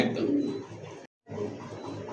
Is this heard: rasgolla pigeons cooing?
yes